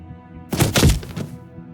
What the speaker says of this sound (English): As your weapon falls pathetically to the floor